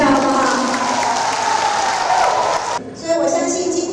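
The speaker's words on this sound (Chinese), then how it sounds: "给他掌声一下，好不好？" An audience at a town fashion show applauds the town mayor, a loud sustained burst of clapping from a crowd that briefly dips, then swells again near the end.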